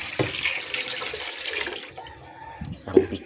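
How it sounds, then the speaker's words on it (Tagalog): Water is poured into a cooking pan for pancit gisado with mariposa noodles, a brief splashing pour near the start followed by quieter kitchen sounds and a sharp clink near the end, with a voice talking over it. "lagyan na natin ng tubig"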